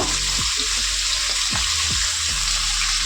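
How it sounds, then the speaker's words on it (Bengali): Hilsa fish frying in hot oil, one side at a time, giving a continuous loud sizzle with a few soft clicks and knocks of cookware. "মাছগুলো আমি এক পিঠ ভাজবো।"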